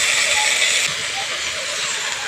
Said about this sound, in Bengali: মশলা মাখিয়ে রাখা লাউটা দিয়ে দিচ্ছি।